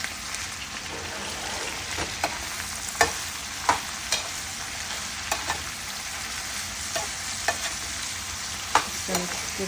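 Chow mein noodles seasoned with black pepper and seasoning salt are stirred in a hot pan: a steady, close sizzle broken by sharp, regular scrapes and clacks of the utensil, with no talking.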